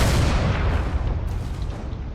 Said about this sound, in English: Massive explosion up there on the carrier.